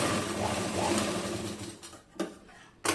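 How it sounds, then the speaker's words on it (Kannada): A tailoring sewing machine runs in a continuous mechanical whir, stitching in reverse, then stops, followed by a couple of short sharp clicks near the end, close and fairly loud. "ಈ ರೀತಿ ಇದನ್ನು ಪ್ರೆಸ್ ಮಾಡಿ ನಾವು ಮಿಷಿನ್ ರನ್ ಮಾಡ್ತಾ ಮಾಡ್ತಾನೆ ಪ್ರೆಸ್ ಮಾಡಿದರೆ ಅದು ಆಟೋಮೆಟಿಕ್ ಹಿಂದೆ ಹೋಗ್ಬಿಟ್ಟು ಮುಂದೆ ಬರುತ್ತೆ"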